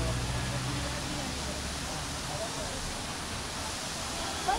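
A monsoon waterfall at a Matheran hill-station viewpoint roars as a continuous, broadband rush, steady and fairly distant.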